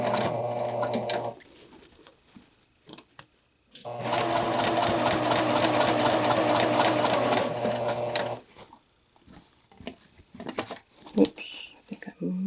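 A sewing machine stitches a two-piece collar with stand in two runs, a short burst and then a longer steady whir of about five seconds, close and clear, with pauses and small handling sounds between.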